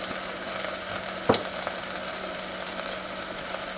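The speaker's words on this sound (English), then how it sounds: "I'm going to go ahead and add some olive oil to the pan in the back so that we can do our greens" Olive oil sizzles and fries in a pan readied for cooking foraged greens, a steady hiss with a few soft clinks and one sharp tap, and no voices.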